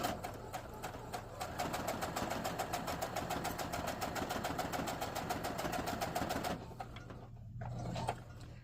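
A sewing machine stitches a fabric drawstring bag, stitching forward and back in a rapid, steady mechanical chatter close by for several seconds before it stops and the room falls quieter.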